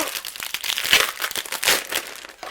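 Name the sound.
opening the packaging of a card-making kit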